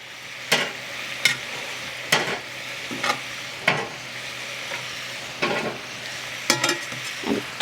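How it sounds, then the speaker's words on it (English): Walleye fillets sizzle in a thickened lemon caper piccata sauce with garlic in a pan, a steady low hiss broken by about a dozen sharp spoon or spatula scrapes at uneven intervals, close by with no voices. "Now that the sauce has thickened up, you can add your fish back in."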